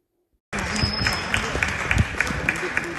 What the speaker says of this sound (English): Applause should not stop.